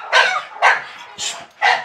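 Four sharp French Bulldog barks, close and loud, spaced roughly half a second apart with brief gaps between them, at a kennel.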